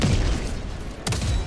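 Gunfire in the video game Helldivers 2 sounds as dense, booming bursts, one barrage at the start and a sharp new volley about a second later, loud over constant battle noise.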